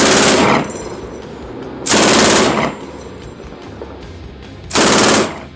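MG3 machine gun firing as a sound effect: three short, loud, near bursts of very rapid fire, each dropping to a fading echo before the next.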